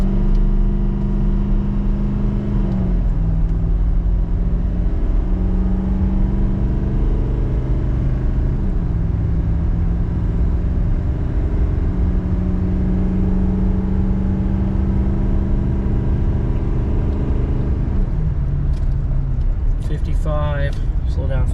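A Chevy 3500HD with the L5P Duramax diesel accelerates uphill while towing 14,000 pounds. Its engine gives a loud, continuous, droning rumble that shifts pitch as it climbs through the gears.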